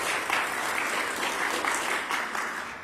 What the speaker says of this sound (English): You can applaud if you'd like.